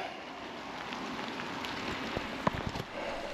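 Rain falls steadily outdoors on a rainy cycling trip, a dense even hiss with scattered heavier drips and one sharp tap near the middle, no voices.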